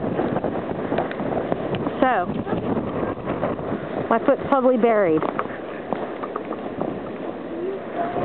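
A strong, cold blizzard wind roars continuously across a snowy neighborhood, buffeting the microphone, while a person speaks in short bursts over the gusts.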